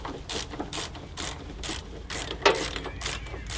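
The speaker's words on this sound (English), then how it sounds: "I'm using a ring spanner on the top and a ratchet on the bottom." A ratchet wrench loosens 24mm cab bolts on a Cat mini excavator, giving repeated close clicking bursts in a steady back-and-forth rhythm with no talk.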